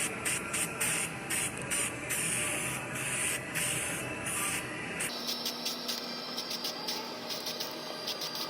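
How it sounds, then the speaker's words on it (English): Weld-through primer is sprayed from a can onto a car body panel during spot-welding prep, a steady close hiss broken into repeated short bursts, then a continuous spray, with no voices. "Put some weld through primer on here where I'm doing all my spot welding."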